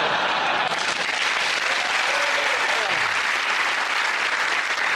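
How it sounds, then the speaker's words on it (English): A television comedy panel show's studio audience claps in a dense, steady burst of applause that fills the whole stretch, loud and close, with no pause. "Randomly, I say well done, and people clap."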